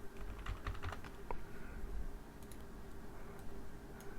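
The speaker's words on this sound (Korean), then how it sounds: "컨트롤 키 누르고 플러스 이퀄 누르게 되면 계속 커지거든요." Keys on a computer keyboard are pressed, a few quick light clicks close by in a quiet room, then softer scattered taps.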